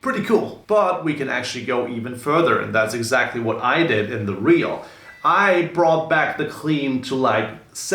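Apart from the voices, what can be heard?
No everyday noises stand out.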